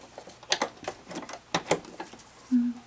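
Sewing machine stitching a vintage-style sewn envelope, short bursts of quick clattering ticks with brief pauses, close and fairly soft, ending in a low hum.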